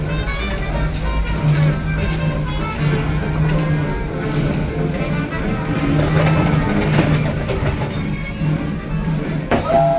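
A Disneyland Railroad train rolls along the line, with steady wheel rumble, a low hum and high squealing wheels building near the end, close and continuous.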